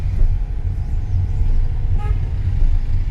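Car horns toot repeatedly from behind in congested traffic during a manual-car driving lesson, the honks loud and fairly close over a steady low road rumble, with no talking.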